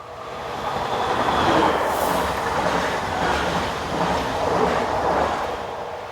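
French regional electric multiple unit train on a local service from Dijon passing close by, a loud steady rumble and rush of wheels on rails that swells and holds for several seconds.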